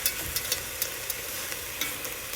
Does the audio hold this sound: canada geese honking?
no